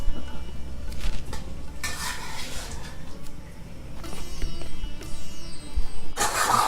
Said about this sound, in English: I'm just frying this chicken at the moment